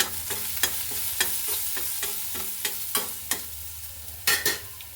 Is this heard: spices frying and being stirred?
yes